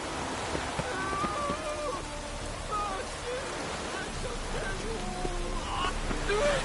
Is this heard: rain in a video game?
yes